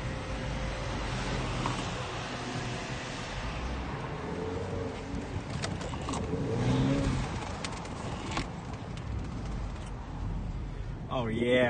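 Engine of a Honda Accord 2.0 liter Touring accelerating, a broad steady roar with rising pitch over about twelve seconds, heard from inside the car with road noise and people talking over it.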